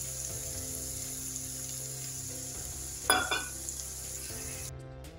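Steady sizzle of ridge gourd and poppy seed paste frying in a pan as a little mustard oil goes in near the end of cooking, with a brief louder splash-and-sizzle burst midway, no talking.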